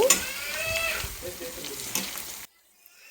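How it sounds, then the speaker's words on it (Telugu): Onions with ginger garlic paste fry in a pan, a steady sizzle that runs for about two and a half seconds and then cuts off to near silence. "ఒక స్పూన్ అల్లం వెల్లుల్లి పేస్ట్ వేసుకుందాం ఆనియన్స్ అయితే కొంచెం వేగిపోయాయి బాగా ఫ్రై చేసుకుందాం"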